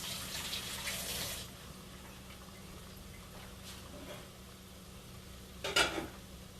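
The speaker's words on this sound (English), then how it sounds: "Second, wash my hands again." Running tap water hisses steadily while hands are washed at a kitchen sink, faint and continuous, with a brief louder splash near the end.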